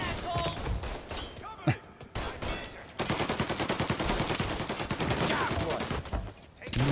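Heavy gunfire in a Mafia: Definitive Edition shootout: loud, close bursts and volleys of shots crowd together in a rapid, uneven barrage, with a brief lull and muffled voices under the fire.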